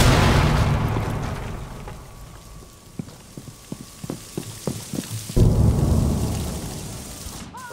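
A grenade goes off in Rainbow Six Siege, a loud, deep rumbling blast followed by scattered sharp ticks and debris clatter, then a second heavy burst of rumble near the end.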